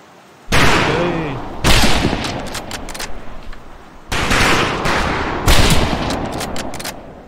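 Loud rifle shots fire at targets on a training range in Medal of Honor: Pacific Assault, coming in several bursts of rapid cracks with short gaps between them, plus a brief voice early on.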